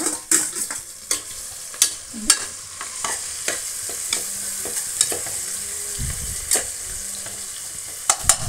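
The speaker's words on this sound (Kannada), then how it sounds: "ಅದೊಂಚೂರು ಅದ್ರಲ್ಲಿ ಫ್ರೈ ಆಗಲಿ, ಸ್ವಲ್ಪ ಹಸಿ ವಾಸನೆ ಹೋಗಲಿ ಅಂತ ಫ್ರೈ ಮಾಡ್ತಾಯಿದ್ದೀನಿ ನೋಡಿ" Crushed garlic frying in a pan, with a constant hissing sizzle broken by repeated sharp scrapes and clacks of a spatula stirring at irregular intervals, close and fairly loud, no talking.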